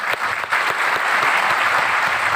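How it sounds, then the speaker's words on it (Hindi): An audience at a business-building seminar in Varanasi claps for the management, a brief, close, dense burst of applause that runs evenly for a couple of seconds. "एक बार मैनेजमेंट के लिए तालियां बजा दीजिए।"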